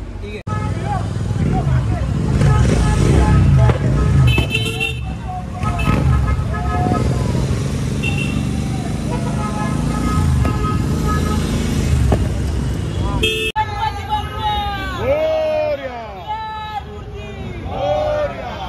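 Motorcycles rumble and idle close by amid street bustle at a Ganpati arrival procession in Sion, Mumbai, with occasional horn toots and people talking loudly over the engines.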